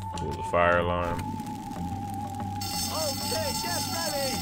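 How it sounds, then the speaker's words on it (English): Fire alarm in the video game Bully: Scholarship Edition, a steady electronic tone ringing throughout with a brief louder buzzing burst early on and chirping game effects layered over it, alongside background game ambience. "Fire alarm."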